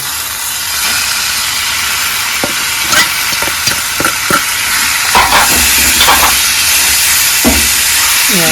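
Poha with potato is stirred and mixed in a hot pan, giving a loud, steady sizzle with a string of scraping spoon strokes throughout and no talking.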